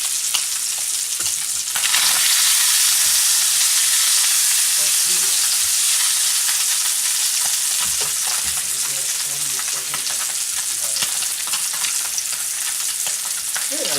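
Pork tenderloin browns in a hot uncovered pan, giving a steady, loud sizzle and frying crackle throughout, with occasional stirring or shifting sounds and no talking.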